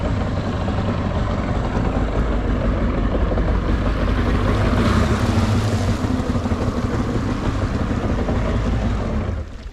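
A jet ski engine runs on a lake after being untied from an anchor, a loud close motor drone with water wash that swells midway and then cuts off abruptly at the end.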